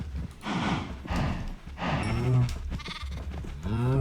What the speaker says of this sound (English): Alright, sheep, you do your thing.